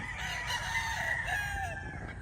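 A Black Gilmore stag rooster with a straight comb crows once in a drawn-out, strained call, fairly close but not loud, with a faint farmyard background.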